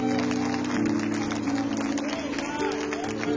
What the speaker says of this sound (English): Give him a good hand clap and a praise.